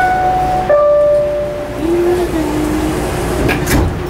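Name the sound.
PATH subway train doors closing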